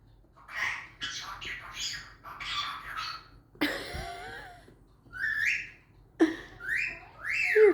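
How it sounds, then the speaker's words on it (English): A pet bird squawks and whistles in short, sharp bursts with pauses between them, fairly faint and close by, while a voice talks quietly now and then. "It's just a bird."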